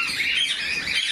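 Cockatiels in a crowded aviary in San Fernando, Pampanga, with many birds chirping and calling at once in a dense, continuous high-pitched chatter.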